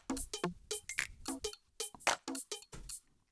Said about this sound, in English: We got like straight up ultra beat Logic percussion bank patch just with some cool bits in it.